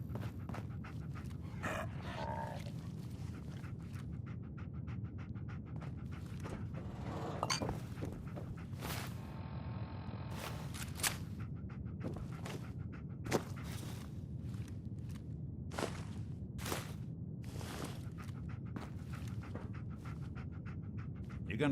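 Dogmeat the dog in Fallout 4 panting steadily and softly nearby, with scattered footsteps, clinks and sharp clicks over a quiet low hum.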